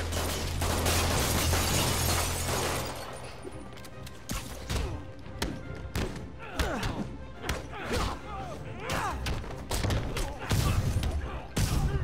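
Gunfire from thugs shooting at Spider-Man in the video game Marvel's Spider-Man: a dense burst of sharp shots and crashing impacts, loud at first and then scattered hits and thuds over swelling game music.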